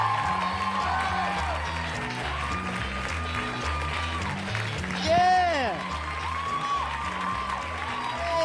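A stand-up comedy audience applauds and cheers a comedian taking the stage, a sustained wash of clapping under loud shouted speech from the performer.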